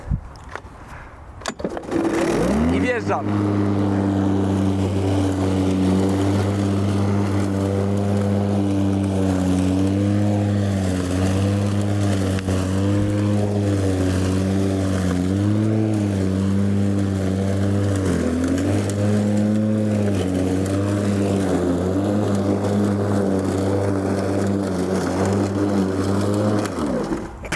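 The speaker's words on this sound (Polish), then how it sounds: "jak słyszeliście w ogóle ten silnik w tej kosiarce nawet się nie zająknął" A cordless battery-powered lawn mower cuts through tall grass, its motor whining in a steady, loud hum that dips briefly under load and holds close throughout, with a short remark spoken near the start.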